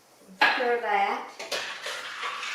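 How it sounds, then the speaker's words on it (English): A utensil clanks and scrapes against a metal pot while beef stew in brown gravy is stirred, with a few loud close knocks followed by softer scraping. "Stir that."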